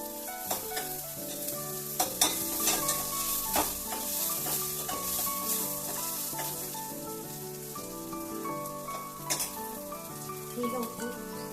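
Chana dal frying in hot oil in a steel pan, a steady close sizzle with stirring scrapes and light clinks running throughout, no voices.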